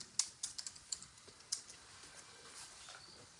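Quiet typing on a computer keyboard, a quick burst of light clicks in the first half then a few scattered taps, with no talking.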